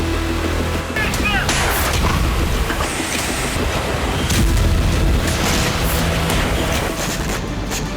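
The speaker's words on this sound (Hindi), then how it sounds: "इससे आप अंदाजा लगा सकते हैं कि यूक्रेन के एक बड़े इलाके में किस तरह ताबड़तोड़ धमाके हुए हैं।" Rapid cluster bomb explosions across a wide area in Ukraine, a dense, relentless string of booms and crackling blasts with no pause, sped-up footage, loud throughout.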